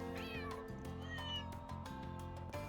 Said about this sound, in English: They're just meowing.